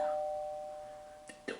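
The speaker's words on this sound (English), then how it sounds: "I don't have a doorbell on that door." A single chime tone rings and slowly decays, fading over a second before a couple of soft knocks or clicks.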